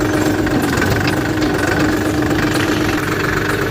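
An old tractor's engine runs at a steady, loud, close rumble with a knocking, vibrating texture while its gears are checked, with no voices.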